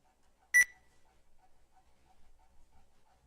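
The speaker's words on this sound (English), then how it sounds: "Only one team has pressed the buzzer" A single sharp electronic beep from a quiz competition buzzer sounds once, short and bright, then fades into a quiet room with faint background murmur.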